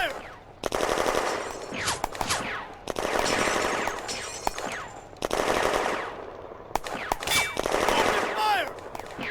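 Sustained machine-gun and rifle fire in the Firefight wargame during a May 1940 battle at the Flaumont industrial zone: long rattling bursts repeating in several waves, loud and close, with brief pauses and a voice speaking between them.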